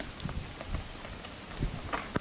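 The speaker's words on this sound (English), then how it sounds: "Starting to get heavy, the rain, isn't it?" Heavy rain falls outdoors at a battlefield memorial site near Messines Ridge, a soft continuous patter with scattered sharper drop impacts, fairly quiet and without talk.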